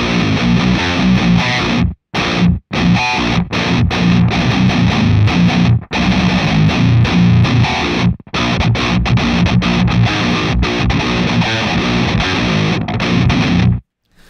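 Heavy distorted 9-string guitar riffs in a djent style through the Otto Audio amp sim, a split humbucker tone with tight chugs broken by sharp stops and gaps, loud and dense throughout with no talking.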